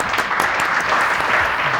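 A burst of audience applause at a live comedy show, dense and steady throughout, with no talking over it.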